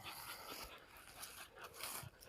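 Dogs pant close by in quick, breathy rhythmic puffs, faint and soft, with slight whimpery sounds mixed in outdoors.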